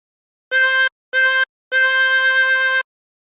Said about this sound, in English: blow into 4 3 times